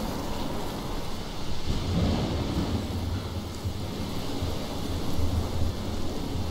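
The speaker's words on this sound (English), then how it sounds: "I've never seen a storm like this in Oregon." A thunderstorm rages in the video game Life is Strange, set in Oregon: a steady, heavy rumble with rain and wind hiss, swelling slightly in places, with no voices.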